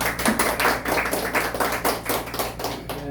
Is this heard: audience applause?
yes